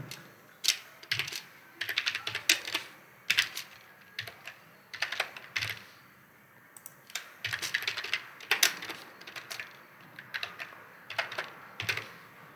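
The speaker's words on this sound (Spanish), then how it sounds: "voy a especificar acá una contraseña" Someone types a password on a computer keyboard while setting up database admin credentials, producing close, crisp irregular keystroke clusters separated by short pauses, with no talking.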